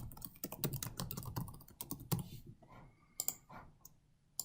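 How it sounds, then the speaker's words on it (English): Someone types a password on a computer keyboard: a quick, close run of crisp key clicks, followed by a few scattered taps after a brief pause. "Password. Type password."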